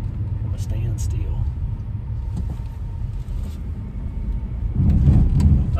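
A squatted Chevrolet Silverado pickup with worn ball joints makes a 90-degree turn from a standstill. A low engine rumble runs throughout with scattered knocks, and the engine surges louder near the end.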